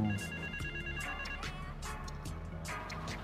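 A phone ringing in the game Grand Theft Auto III, with repeated electronic ring tones over constant game background noise and no talk.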